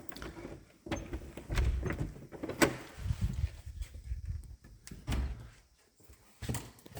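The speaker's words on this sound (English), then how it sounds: "As with old doors, they stick." An old, sticking interior door into a butler's pantry is forced open, giving a series of knocks, scrapes and a sharp thump over several seconds, close by in a quiet room.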